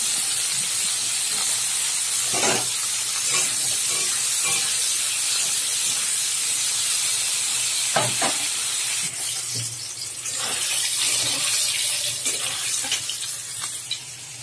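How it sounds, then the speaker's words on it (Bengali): Eggplant fries in a pan for nim begun with a steady, close hiss of sizzling oil, broken now and then by soft stirring clinks, with no one speaking. "নিম বেগুনের জন্য বেগুনটা ভেজে নিচ্ছি আগে"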